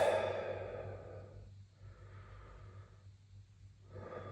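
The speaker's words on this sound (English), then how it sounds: "close my eyes, take 2 more deep breaths" A slow, deep breath drawn and released with eyes closed during pistol shooting practice. It comes as a soft, close exhale followed by quieter breathing cycles in a calm setting.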